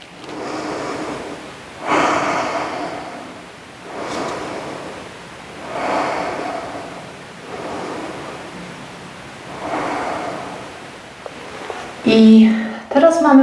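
Slow, steady breaths repeat every two seconds or so, close and airy like soft surf, with a voice breaking in at the end.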